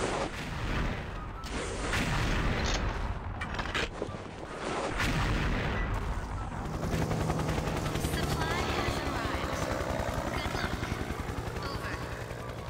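Rapid gunfire rattles in the XSHOT shooting game as mummies are shot in a pharaoh temple level, with bursts of booming shots and explosions over a thick, continuous game soundscape, and a voice talks over part of it.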